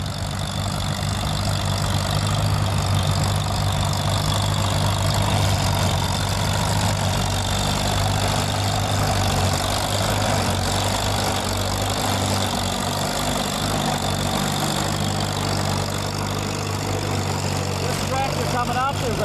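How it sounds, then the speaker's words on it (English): A 1955 Massey Harris 44 Special antique tractor runs with a steady, loud low engine drone, continuous throughout amid outdoor parade noise. "Behind Doug is a 1955 Massey Harris 44 Special, owned by Les Kleckner, being driven by Dirk"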